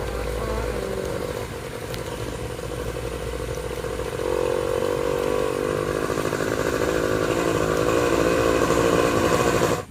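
A motorcycle engine runs steadily nearby for the whole stretch, a buzzing, rattling drone that swells louder about midway and holds, with no talk over it.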